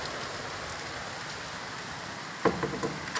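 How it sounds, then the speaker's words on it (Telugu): Rain falling on an evening, a steady soft patter with a few sharper drops near the end, no voices. "వర్షం పడుతుంది"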